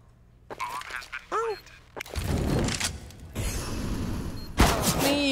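Counter-Strike: Global Offensive gunfire at a pro league LAN match crackles in sharp bursts, with a few loud shots standing out, under excited Thai commentary and a busy mix of game effects.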